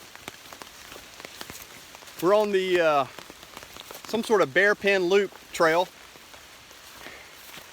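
Rain falls steadily on umbrellas during a storm on a forest backpacking trail, a soft broadband patter running throughout while a person talks over it in the middle of the stretch.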